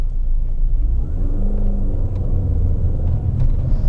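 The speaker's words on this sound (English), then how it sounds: "Oh, I love the supercharger sound though." A supercharged R53 Mini Cooper accelerates on the road, its engine a steady loud mid-pitched drone with a rising whine, heard from inside the car and without talk.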